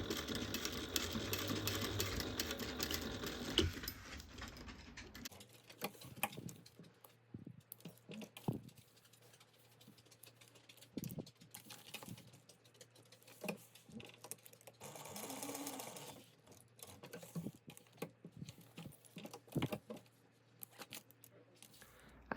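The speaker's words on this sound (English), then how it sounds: "So you're just going to sew that each side down." Sewing machine stitching the fabric D-ring tabs down for a Kari bag, a dense rapid whirring burst for a few seconds, followed by quieter intermittent clicks and handling noises.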